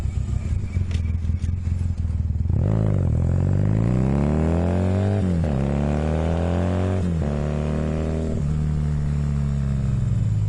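A Honda CB250 motorcycle engine idles steadily, then is revved several times, the pitch sweeping up and falling back in smooth rising and falling surges over a constant rumbling idle, loud and close with no talking.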